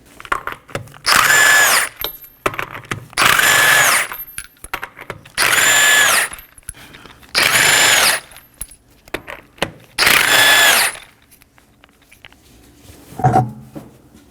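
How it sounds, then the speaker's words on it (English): A power tool with a 21mm socket spins off the five lug nuts from a rear wheel of a 2015-2023 Nissan Maxima, sounding as five loud, evenly spaced whirring bursts with faint clinks and rattles in between and one short clatter at the end. "I'll be using a 21mm socket to remove the 5 lug nuts."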